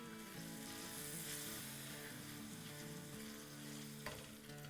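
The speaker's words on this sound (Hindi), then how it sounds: "पहले दही को ही मिला लेंगे, और जब दही को मिला लेंगे तो फिर मसालों के साथ अच्छे से मिला लेंगे।" Yogurt and spices stirred in a hot pan for kofta curry, a soft continuous sizzle with faint scraping, fairly quiet and steady, no talking.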